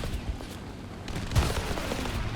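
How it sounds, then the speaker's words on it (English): Heavy autocannon fire in the War Thunder tank battle game, a dense run of overlapping shots with a stronger boom near the middle, loud and continuous under general battle noise. "You giant autocannons."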